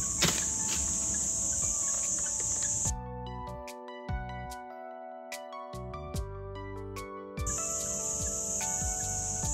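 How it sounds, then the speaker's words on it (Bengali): Crickets in Chilapata Forest keep up a steady, high, shrill buzzing at the start and again at the end. Music with sustained tones cuts in between the two stretches of insect noise. "ঝিঝি পোকা"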